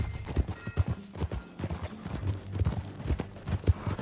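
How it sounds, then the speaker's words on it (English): Horse hooves clip-clopping in a steady, uneven rhythm in the game Red Dead Redemption 2, close and distinct, several hoofbeats per second across the whole stretch. "Get on your horse, John."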